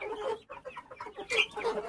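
A grey hen gives a short run of soft, close clucks, a few quick pulses lasting under two seconds.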